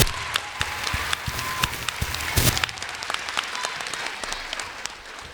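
An audience in a Martin Luther King High School gathering claps and cheers with scattered sharp individual claps over a crowd wash, briefly swelling louder midway before settling into steady applause.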